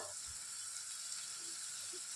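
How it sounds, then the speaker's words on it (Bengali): Lentil fritters (bora) fry in oil with a soft, steady sizzle that stays even and continuous throughout. "যে বড়াগুলো ভাজা হচ্ছে"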